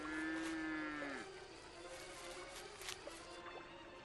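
A cow moos once, a long loud low call that trails off after about a second, followed by quieter outdoor rustling and faint splashy noises on flooded grazing land.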